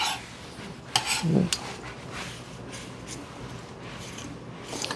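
Sharp knife scraping spines from a nopal cactus pad, a few brief dry rasping scrapes near the mic, one louder stroke in the middle, with quiet room noise around.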